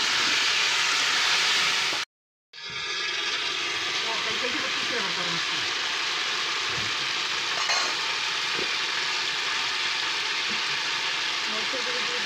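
Raw potato pieces drop into a pan of frying fish curry, setting off a steady loud sizzle and hiss after a brief silent gap, with faint stirring scrapes underneath.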